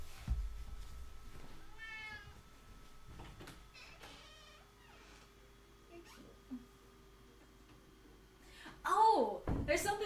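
A pet cat meows several times at close range, short rising and falling cries spread across a quiet room, with faint knocks and shuffling in between and a louder burst of meowing near the end.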